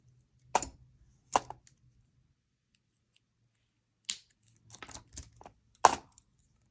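Cutters snip off excess jewelry wire with a few sharp, isolated clicks and small crunching snaps, close and quiet against a silent background.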